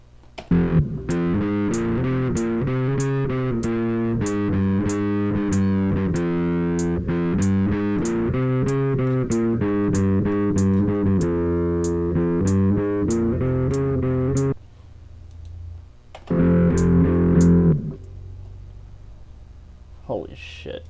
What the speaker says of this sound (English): We're gonna do guitar distortion.